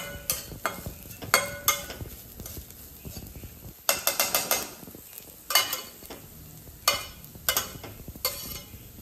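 Turmeric powder is stirred into a spice tempering in a pan for a fenugreek leaf dish, with repeated spoon scrapes and clinks against the pan over a light sizzle, close by.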